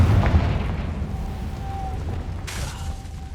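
A Confringo fire spell bursts in the Hogwarts Legacy video game: a single sudden blast over a steady low rumble, with a thin tonal ring carrying on after it.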